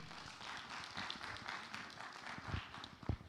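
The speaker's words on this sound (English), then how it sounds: "A round of applause once again." A conference audience gives a round of applause in a large hall, a quiet, dense patter of clapping with a few louder claps near the end.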